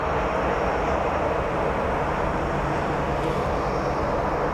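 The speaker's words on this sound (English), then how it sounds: "Looks like the Dreamliner is taxiing our way" An American Airlines Boeing 787 Dreamliner taxiing at Columbus John Glenn International Airport, a steady, dense engine roar and rush that holds constant throughout, with no voices.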